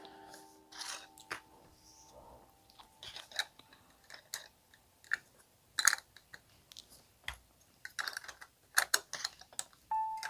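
Small clear plastic parts of a Gigapower HQ-04R Chrome Graviter transformer toy being fitted onto two little pegs: a close series of light, irregular clicks and taps, with a few sharper snaps toward the end.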